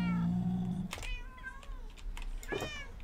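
A cat meowing in the video game Minecraft: a drawn-out low meow followed by two higher, wavering meows, close and clear with faint background game noise.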